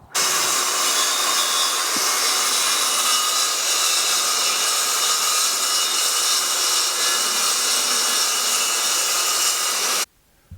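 A power saw cuts steadily through wood siding on a house for about ten seconds, a loud continuous buzzing rasp that stops abruptly near the end, close and without talk.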